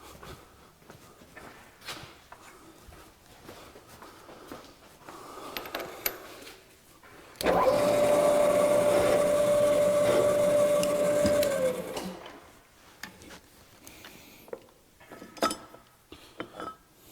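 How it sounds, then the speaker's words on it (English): An angle grinder cuts a chamfer on a steel Jeep hitch stinger in one loud four-second pass with a steady whine, framed by quiet clinks and handling noises. "let me put a slight chamfer on that"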